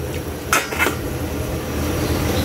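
Metal lid set onto a cooking pot of ginataang lukan, two quick clanking knocks close by, then a steady background hiss of cooking with no voices.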